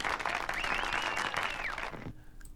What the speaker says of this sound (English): Give him a round of applause, people.